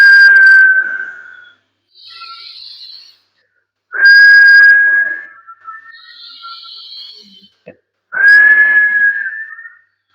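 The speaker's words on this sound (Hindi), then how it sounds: "लेफ्ट नाक से सांस लेना है और मुंह से सीटी बजाते हुए छोड़ना है।" A yoga breathing exercise: three long whistled exhales through the mouth, each a clear sustained tone lasting about a second or more, with quieter breathy gaps between them and no talking.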